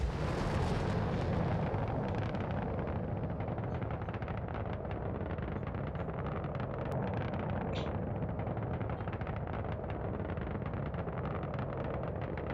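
Rumbling, roaring blast from an S9 torpedo fired and exploding on target in a video game, dense and sustained throughout with a continuous low booming wash.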